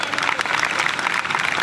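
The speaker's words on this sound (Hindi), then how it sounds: "एक दफा 3 दफा तालियां बजाएं" An audience at a school teachers' gathering claps loudly and steadily for the teachers and principal, a dense close burst of applause.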